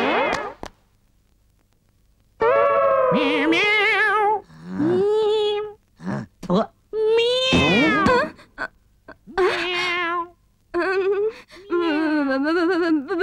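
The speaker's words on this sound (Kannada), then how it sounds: "Bloody cats." Cats meow and wail repeatedly in a Kannada comedy film scene after a brief quiet start, loud and close, with plaintive, wavering cries in quick succession.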